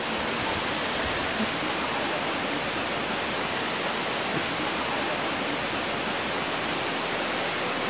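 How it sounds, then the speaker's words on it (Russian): A 121-metre waterfall in Ireland roars in a continuous, dense rush of falling water, steady and unbroken from start to finish. "Вода падает с высоты 121 метр, и это самый большой водопад в Ирландии."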